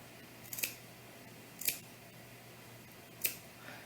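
Scissors snip through fabric at the armholes of a doll tunic, clipping down to the seam: three sharp, separate cuts spaced a second or more apart, close and fairly quiet against a still room.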